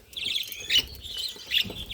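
Small birds chirp nearby in short, bright bursts, a few scattered calls over a quiet background.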